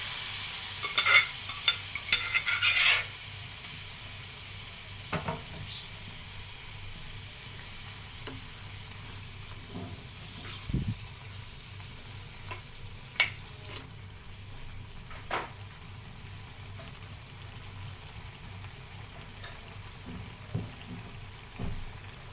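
Pepper-seasoned chicken liver fries in a pan, a faint steady sizzle punctuated by scattered scraping stirs, with a brief clatter near the start and no talking.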